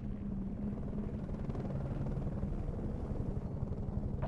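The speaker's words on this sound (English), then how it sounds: "There's a helicopter again." A steady, low rumbling helicopter in the video game F.E.A.R. 2: Project Origin, with a rapid rotor thump, constant and fairly close, with no voices.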